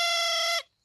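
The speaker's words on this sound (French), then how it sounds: "On appelle celui-là une fauvette à trompe." A cartoon trumpet warbler, a made-up musical creature, gives one bright, steady horn-like toot that stops sharply, leaving silence.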